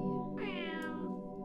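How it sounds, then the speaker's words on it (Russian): Meowing from cartoon cats in the mobile puzzle game Puzzle Cats, a single clear drawn-out meow rising over steady background game music. "Они мяукают. Все коты по-разному."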